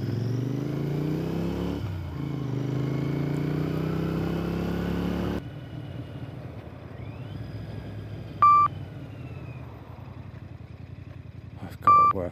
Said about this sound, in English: I've got to work out what these beeps are.